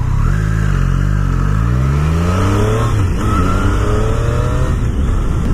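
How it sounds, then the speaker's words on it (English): A 2019 Triumph Street Triple R motorcycle with stock exhaust revs up and down loudly, pitch climbing and falling in repeated sweeps, close by with a steady roar underneath. "stock exhaust is pretty tamed"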